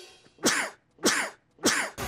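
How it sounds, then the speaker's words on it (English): A man coughs three times in quick, evenly spaced bursts, close and fairly loud, with quiet gaps between. "I have to cough."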